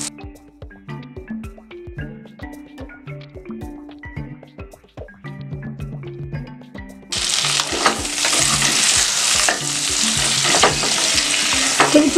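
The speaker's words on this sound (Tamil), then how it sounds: "எண்ணெய் நல்லா காஞ்சதுக்கப்புறம் இந்த கத்திரிக்காயை நம்ம போடுவோம்." Brinjal is stirred in a pan, with sharp spoon clicks and scrapes at first, then a loud, steady sizzle as it fries in hot sesame oil, close up with no voices.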